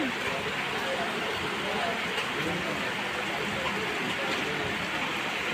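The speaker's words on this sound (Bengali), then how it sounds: "টিপ টিপ টিপ টিপ করে বৃষ্টি পড়তেই আছে এ আর থামার মতো না" Steady rain patters continuously on surfaces, a dense even hiss that never lets up.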